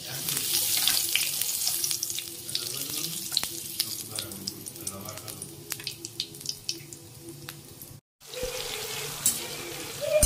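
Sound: cumin sizzling in hot oil

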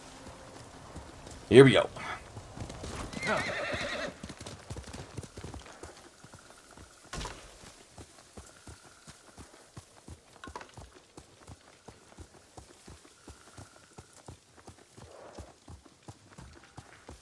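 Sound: horse hooves and neighing in the video game Ghost of Tsushima

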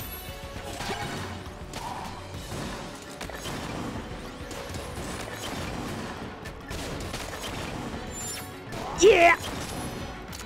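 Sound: gunfire in the video game Exit the Gungeon

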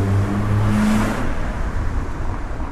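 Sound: car being driven

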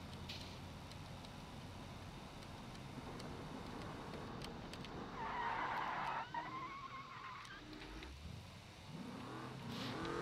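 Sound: car engine in BeamNG video game

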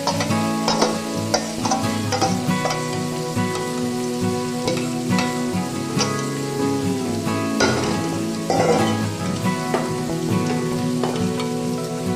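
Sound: stirring cooked chicken into fried rice for tehari

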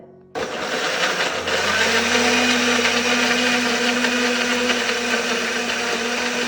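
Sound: mixer grinder blending mango

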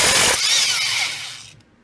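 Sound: impact wrench with puller removing Polaris Trail Boss flywheel

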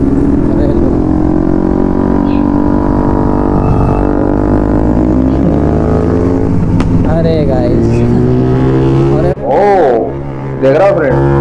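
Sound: loud motorcycle exhaust during a bike race

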